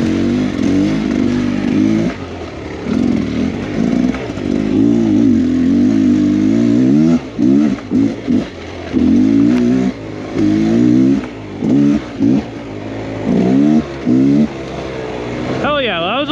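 A dirt bike on an enduro trail revs repeatedly, loud and close, its engine pitch rising and falling in bursts with brief drops between throttle blips.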